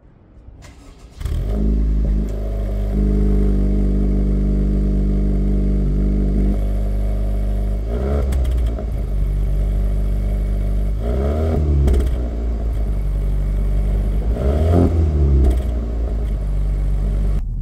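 Honda Civic Type R FL5 engine with its stock exhaust, idling then revved repeatedly in loud, close bursts, with a steady low drone between the revs and no talking.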